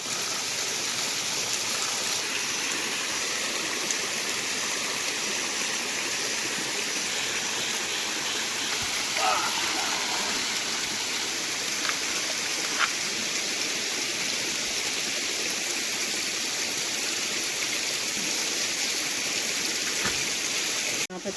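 A small mountain stream in a forested Uttarakhand ravine rushes and babbles steadily, a close, continuous broadband water flow with a few faint clicks and knocks on top.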